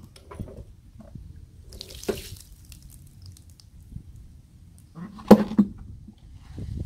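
Collard greens are rinsed in a sink, with soft splashing and trickling water, a few louder sloshes and drips, close and fairly quiet.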